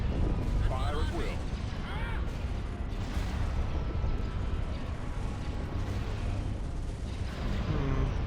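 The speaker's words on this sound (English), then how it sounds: "Oh, we are actually taking quite a lot of fire here." Space battle weapon fire in a Star Wars strategy video game: dense, continuous booms and blasts rumble throughout, with bursts of higher zapping shots layered over the din.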